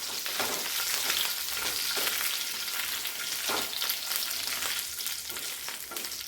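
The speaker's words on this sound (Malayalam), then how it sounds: "കറിവേപ്പിലയും ഇട്ട് കൊടുക്കാം. ഒന്ന് ഇളക്കി കൊടുക്കണം." Potatoes and curry leaves fry in hot oil with a dense, continuous close sizzle, while repeated stirring strokes scrape through it at irregular intervals, with no voices.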